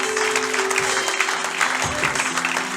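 A church congregation at a consecration service applauds and cheers for Jesus: a dense, continuous wash of clapping with voices mixed in, steady and fairly close throughout.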